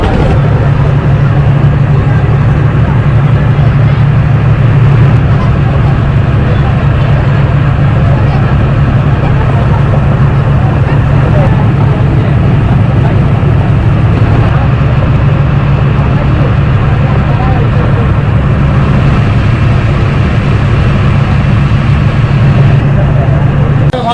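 A river ferry launch's engine runs as a steady, loud low drone with constant chugging and surrounding noise, unbroken throughout the stretch before the short crossing.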